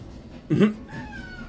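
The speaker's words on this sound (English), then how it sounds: "I'm not sure if you guys can hear my kitty in the background that's" A pet cat lets out a single loud, drawn-out meow in the background, over a low steady room hum, with no one speaking.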